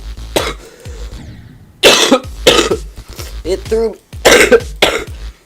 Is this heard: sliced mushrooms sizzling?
no